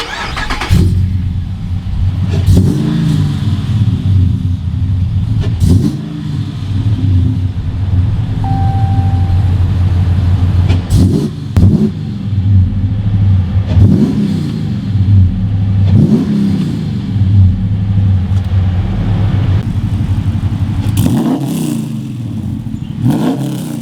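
A RAM 1500 pickup's 6.4 HEMI V8 fires up and is blipped repeatedly, loud surging revs rising and falling over a deep idle rumble, close by and without speech.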